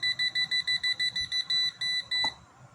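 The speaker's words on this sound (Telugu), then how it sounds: "బజర్ వస్తుంది." An AC electrical tester's buzzer sounds a rapid string of about a dozen sharp, loud electronic beeps, evenly spaced at first and then slightly longer, ending abruptly, with faint background noise and no talking.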